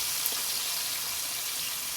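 Garlic and a piece of pepper sizzle steadily in hot frying oil, a constant, fairly loud hiss and crackle with no talk over it.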